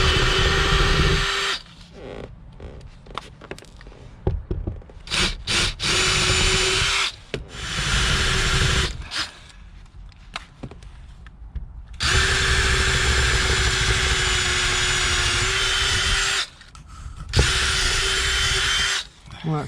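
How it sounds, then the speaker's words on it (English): A power drill bores out pop rivets on a porthole window in repeated whining bursts of a few seconds each, separated by short pauses and clicks, close and loud. "So first job, get these pot rivets drilled out."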